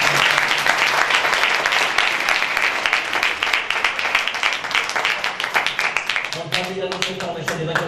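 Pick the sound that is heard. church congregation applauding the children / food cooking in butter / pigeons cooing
church congregation applauding the children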